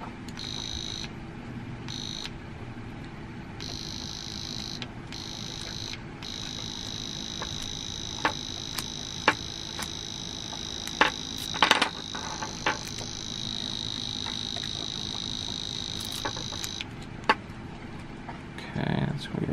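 A marine alarm padlock gives off a high, steady electronic tone that holds for long stretches, broken by a few short gaps and sharp clicks, at moderate volume.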